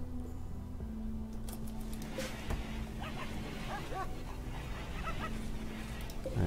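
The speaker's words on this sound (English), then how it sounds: "we got some puppies here also" Several puppies in the video game RimWorld whimper and yip in quiet, scattered bursts over a low steady hum, faint and close.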